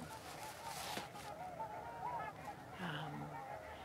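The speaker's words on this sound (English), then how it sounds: "That high-pitched kind of a squeak is the short-eared owl." A short-eared owl gives a high-pitched squeaking call, rising briefly out of faint outdoor background before a lower, harsher call near the end.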